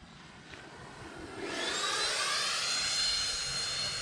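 A Freewing F-15 Eagle RC model jet with 90mm ducted fans climbs at full throttle, its whine swelling into a loud, steady roaring rush that sweeps upward in pitch and holds for several seconds, with no voices.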